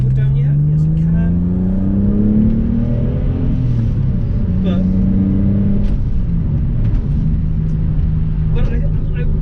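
A Porsche 911 accelerates hard, the engine note climbing steadily through the revs in a loud, close, rumbling roar, heard from inside the car with a voice talking over it at moments.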